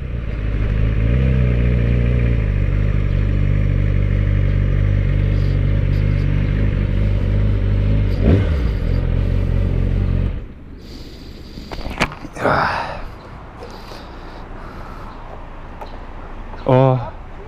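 A sportbike engine, ridden in comparison with a CRF 250L dirt bike, holds a loud steady drone for about ten seconds, then cuts to quieter idling and short revs near the end, with brief wind and handling noise.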